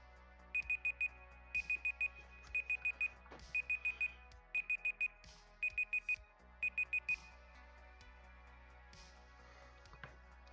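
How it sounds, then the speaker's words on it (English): Electronic alarm beeping outdoors in short rapid bursts of four high tones, repeated in six groups over steady low background hum, then stopping; no talk. "The alarm went off."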